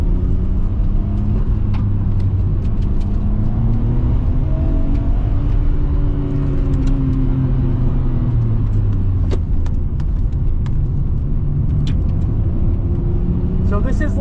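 A Nissan Skyline R34 GT-R drives on a short track with berms while warming its tires, its engine droning loud and close throughout with rising and falling tone as it shifts and revs; a voice talks in the cabin over the engine noise.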